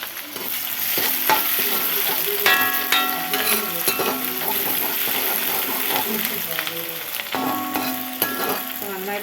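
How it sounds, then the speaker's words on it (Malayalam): Chili, ginger and garlic being stirred as they fry in a pan, a steady close sizzle with repeated scraping strokes of the spoon through the whole stretch, with faint voices in the background. "അതിൻ്റെ കൂടെ തന്നെ മുളക്, ഇഞ്ചി, വെളുത്തുള്ളി നന്നായിട്ടൊന്ന് ഇളക്കി."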